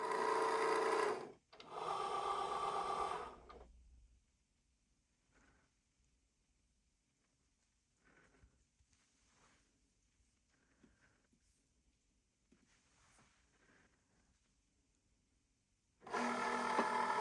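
An inkjet printer prints a sheet of Cricut printable vinyl with a bunny design, giving a quiet, intermittent whirring and clicking of the moving print head, set between louder bursts of mechanical feed noise at the start and end.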